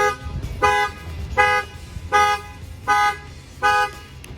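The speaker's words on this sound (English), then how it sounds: "you'll notice that the alarm is gonna fire off too." A 2017 Ford F-150 pickup's factory alarm, triggered by a shock sensor during a tailgate theft, honks the horn in five regular, evenly spaced blasts, loud and close.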